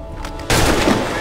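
Gunfire in the video game Assassin's Creed 3: a sudden loud, broad blast erupts midway through, following a quieter stretch of game ambience, and its dense rumbling roar carries through to the end.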